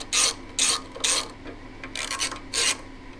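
Torque wrench tightening the front wheel bolts on a Harley-Davidson touring motorcycle, giving five short rasping ratchet bursts in an even rhythm, close and clear.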